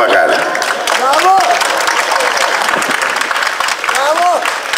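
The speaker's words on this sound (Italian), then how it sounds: "Un altro applauso, come potete fare magari." Loud sustained applause from a crowd at an outdoor election rally in Palagonia, with voices calling out over the dense clapping throughout.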